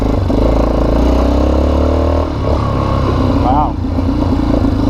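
A Yamaha Wolverine 350 4x4 ATV engine drones loud and close with a steady revving note that dips briefly midway, while a person speaks over it.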